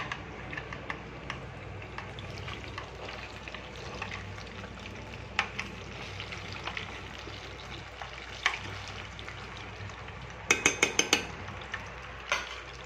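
Egg bonda (mutta bonda) frying in hot oil, giving a steady bubbling crackle throughout with scattered sharp pops and a quick burst of clinks near the end.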